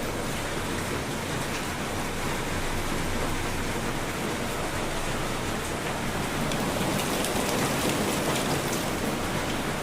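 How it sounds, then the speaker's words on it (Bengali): Rain falls steadily and heavily, a dense unbroken hiss of drops striking surfaces, with no voices. "এদিকে বৃষ্টিও হচ্ছে"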